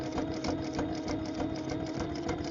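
A sewing machine with a walking foot stitching at a steady pace, giving a continuous fast, rhythmic mechanical whir and patter close up, with no pauses or talking.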